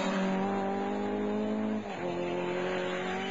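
A Ford Escort Mark II rally car drives in a Mark II challenge rally, with a loud, steady engine roar close by and a brief dip in pitch as the driver shifts partway through.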